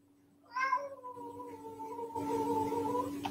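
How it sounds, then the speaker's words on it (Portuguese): A cat meows in a long, drawn-out, rising then steady wail of several seconds, fairly close and clear, with a low background hum and no talking. "Este barulho que ouvem aqui é um gato"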